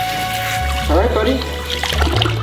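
Running water from a tap splashes steadily during a Labrador puppy's first bath, continuous and close, with a voice talking over it.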